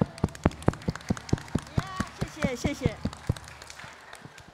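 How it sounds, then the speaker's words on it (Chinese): At a primary and preschool Chinese New Year celebration, people clap in a quick, even rhythm, sharp claps close and regular, with a brief spoken voice over them before the clapping tapers off. "掌声不够热烈，再热烈一点"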